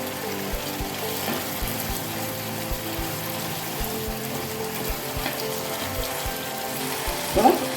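Curry leaves sizzling in a pan of Chettinad chicken fry, a soft continuous frying hiss with faint rhythmic ticking from a kitchen mechanism and a brief clatter near the end.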